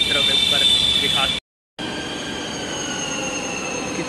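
A metro train rumbles with high wheel squeal and steady rail noise, loud and close, with a brief cut of silence before the train sound continues, and people talk over it at the start.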